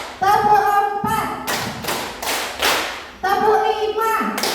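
Rhythmic group claps from a roomful of adult participants at an Indonesian teachers' training session, counted sets of sharp hand claps in tight bursts separated by short pauses, loud and close.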